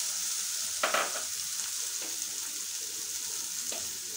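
Mango pieces sauté in hot oil with a fenugreek and mustard seed tempering, giving a steady soft sizzle. A few stirring scrapes break through near the start and again later.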